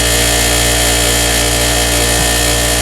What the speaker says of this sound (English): Even this grinder has a little bit of a vibration to it.